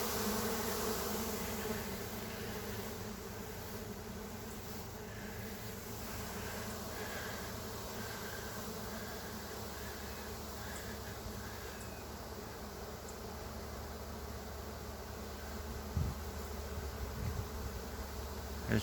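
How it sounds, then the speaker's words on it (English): A swarm of honey bees buzzes steadily and thickly for the whole stretch, a continuous dense hum with no voices, with a few slightly louder moments near the end. "There's just bees everywhere right now."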